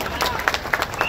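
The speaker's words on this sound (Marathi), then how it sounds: "मग एकदा शिवसंघर्ष प्रतिष्ठान आणि अखिलेशसाठी जोरात टाळ्या उंचावते" A crowd at a Dahi Handi celebration in Ulwe gives a short burst of clapping and applause for Shivsangharsh Pratishthan and Akhilesh, with voices talking over it.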